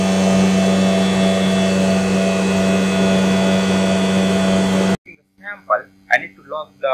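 A vacuum pump evacuates a cold plasma food treatment chamber, giving a loud, steady mechanical drone with a tonal hum for about five seconds before it cuts out and a person starts talking.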